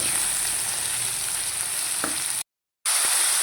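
Ridge gourd is stirred in a hot cooking pan for a fenugreek and chana dal curry, with a steady close sizzle and soft scraping that cut out briefly before resuming.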